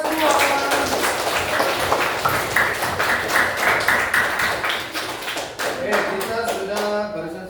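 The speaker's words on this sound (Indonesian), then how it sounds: "Tepuk tangan untuk kita semua." Sixth-grade class claps its hands together in a lesson on patterns, a dense run of quick close claps with a voice talking over it, then thinning out near the end.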